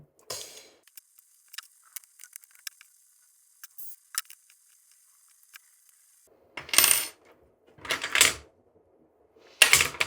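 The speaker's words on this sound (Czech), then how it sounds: "navkládáme si sem 4 matice" Small metal nuts for a Prusa 3D printer heatbed clink and tick sharply, scattered light metallic clicks followed by a few louder rattling bursts, close and otherwise quiet.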